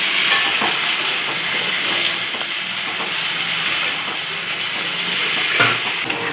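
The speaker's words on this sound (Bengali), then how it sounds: "আলু পেঁয়াজ একসঙ্গেই ভেজে নেবো ভালো করে" A steady, close sizzling hiss of potatoes and onions frying together in a pan continues throughout, with faint crackles and no voices.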